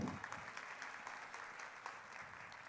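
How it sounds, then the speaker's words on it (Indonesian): Audience clapping at the OPPO Reno13 smartphone launch event, a dense, even round of applause from a crowd throughout, fairly soft and without talk. "Boleh minta tepuk tangannya ya?"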